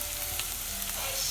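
Onions sizzle in hot oil in a pan, a dense, even frying hiss held close up for just over a second with a faint stir, no voices.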